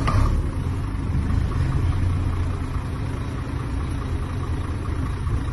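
An IVECO 6-tonne boom crane truck engine idles steadily nearby, a constant low, throbbing rumble with no talking.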